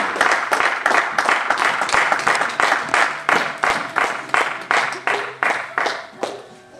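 A church congregation claps together in a steady rhythmic beat, loud and close, with voices faintly mixed in.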